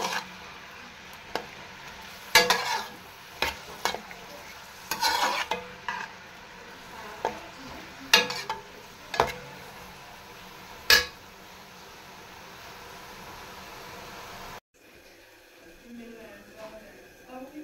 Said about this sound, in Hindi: अच्छी तरह से इनको करेंगे हम फ्राई।